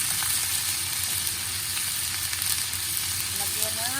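Clams being sautéed in a pan with salt, a loud constant sizzle filling the space up close, with light stirring scrapes and a faint tonal squeak near the end.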